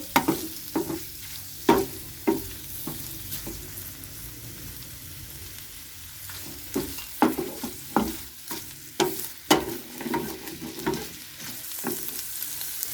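Boiled chicken frying in hot oil in a pan, giving a soft continuous sizzle broken by irregular clinks and scrapes of a stirring utensil, fairly quiet and close, with no voices.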